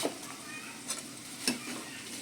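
Dried chilies stirred in a hot pan for chili pickle, a faint sizzle with a few soft scrapes and clinks of a spoon against the pan.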